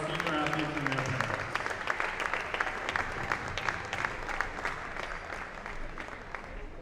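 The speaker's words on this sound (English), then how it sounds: "let's have a round of applause for our senior athletes and their parents" A high school gym crowd applauds senior basketball players and their parents on senior night, sustained clapping filling the space at a steady level, with voices mixed in and a faint tone at the start.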